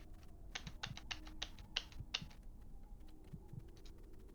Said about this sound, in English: I'm typing the friend code